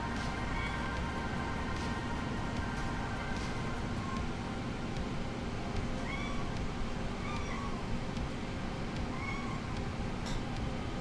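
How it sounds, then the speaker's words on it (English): A house cat meows several times, short rising calls heard faintly over a steady hum of flight simulator engine and taxi noise. "Cat wanted to say hi."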